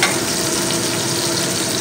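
Finely chopped onions fry in hot oil in a pan, a loud, continuous close-up sizzle that holds steady with no pauses.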